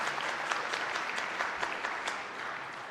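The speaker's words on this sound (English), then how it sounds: "give them all a round of applause." Audience at a Founders Day ceremony applauding steadily, a dense patter of clapping with a few sharper individual claps standing out, sustained throughout at moderate distance.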